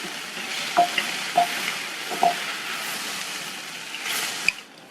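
Capsicum poriyal with grated coconut and chopped coriander leaves being stirred in a pan, a spoon scraping in several distinct strokes over a soft steady sizzle, close and clear with no talking.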